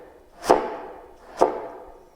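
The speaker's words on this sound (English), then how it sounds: "the final special effect I can think of that's not often used but is quite effective is called slap tongue" Two sharp, percussive slap-tongue pops on a trombone, evenly spaced about a second apart, each a short, dry smack that fades quickly, played alone and up close.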